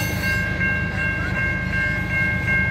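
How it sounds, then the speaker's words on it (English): Coal train C801-25 rolls by at Zoschke Road in Riverside, Michigan, a close, loud, steady rumble of railcars with rhythmic wheel clicks and a sustained high metallic squeal. "this coal train is C801-25."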